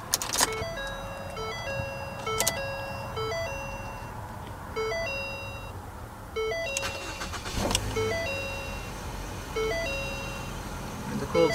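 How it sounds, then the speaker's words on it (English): A Ford Fusion's chime tones repeat in stepped patterns alongside a car's 3-liter V6 engine cranking and firing on a cold start, with loud bursts near the start and again midway, heard close and alone. "And what you're hearing there is a 3-liter V6 engine."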